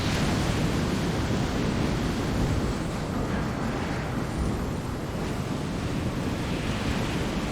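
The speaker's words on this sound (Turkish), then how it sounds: "Altımızda da okyanus var ha." Steady roar of ocean surf far below in the video game Enslaved: Odyssey to the West, a broad continuous wash of breaking waves with wind layered over it and no talking.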